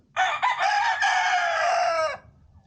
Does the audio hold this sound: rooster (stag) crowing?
yes